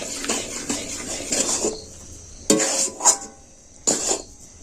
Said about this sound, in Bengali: দিয়ে আবারও এইভাবে আমি এটাকে নেড়ে চেড়ে একটা ডো করে নেব